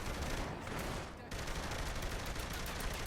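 Heavy, continuous gunfire in the video game Saints Row The Third Remastered, a dense roar of shots filling the whole stretch with only a brief dip in the middle.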